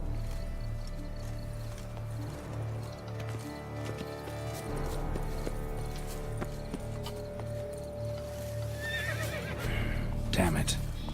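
Horse sounds in The Witcher 3 video game, with hoof clip-clops and a whinny near the end, over a low rumbling background and some faint voice-like sounds.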